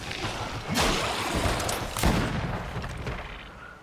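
In the video game GreedFall, two sharp gunshots crack out about a second apart, each followed by a short booming echo, loud and close.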